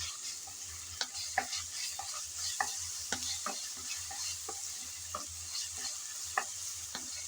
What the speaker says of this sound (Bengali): হালকা করে নেড়ে চেড়ে ভেজে নিয়েছি, যাতে আদা রসুনের কাঁচা গন্ধটা চলে যায়